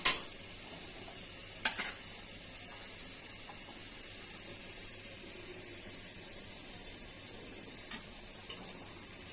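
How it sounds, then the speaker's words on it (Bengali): Potato and carrot pieces frying in a pan give a soft, steady sizzle with a couple of sharp utensil clinks, close and fairly quiet with no talk. "আলু আর গাজরটা ভাজা হয়ে গেছে আমার।"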